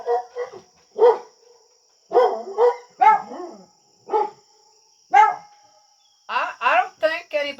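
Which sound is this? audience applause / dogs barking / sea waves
dogs barking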